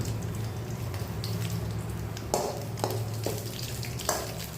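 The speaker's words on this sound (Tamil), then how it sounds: "முதல்ல கடாயில் எண்ணெய் ஊற்றி உளுந்தம்பருப்பு கடலைப்பருப்பு போட்டு வறுத்துக்கலாம்." Urad dal, chana dal and garlic fry in oil in a kadai, giving a steady close sizzle with a few sharp clinks and stirring scrapes over a low hum.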